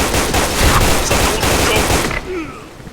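Rapid automatic gunfire in the Special Force 2 video game, a dense burst of loud repeated shots that cuts off abruptly near the end, leaving quieter game sounds.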